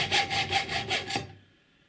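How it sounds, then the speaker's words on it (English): Saw strokes trimming the excess off a small mirror stem, about five rapid rhythmic back-and-forth cuts, close and fairly loud, ending abruptly and fading into quiet. "what I'm going to do is just trim the excess off"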